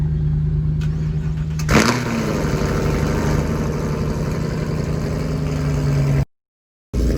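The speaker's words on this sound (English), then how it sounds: "Little cold start on the Camaro." A Chevrolet Camaro fires up from a cold start: a brief starter crank, then a loud catch and a steady, rumbling high idle close by, cutting off near the end.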